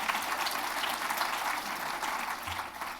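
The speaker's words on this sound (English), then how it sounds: "You can applaud her." Steady applause fills a large hall at a convention presentation, a dense crowd of clapping hands that continues evenly throughout with no voices on top.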